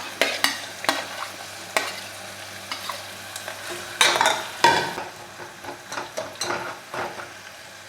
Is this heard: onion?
yes